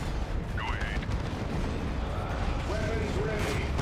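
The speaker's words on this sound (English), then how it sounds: "with the plasma cannon, since the shot seems to be traveling just along the ground. Like an overly destructive cannonball" Plasma cannon fire in the Warhammer 40K: Dawn of War 2 Retribution strategy game, a continuous heavy roar of battle noise with faint whistling tones, loud and dense throughout.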